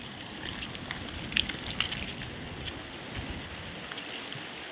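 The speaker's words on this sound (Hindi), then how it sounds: "लो जी, आ गई है बारिश" Heavy rain beginning to fall on a farm field in Ganganagar, a dense steady hiss of drops with a few sharper taps, close and continuous, no talk.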